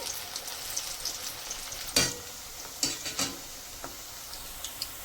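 Pakoda batter dropped in small pieces into hot oil bubbles with a soft continuous sizzle, broken by a few sharper crackles and taps, quiet and close with no speech.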